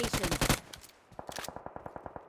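Rapid automatic gunfire in a video game, a loud burst of close shots followed by a steadier run of evenly spaced, slightly quieter rounds.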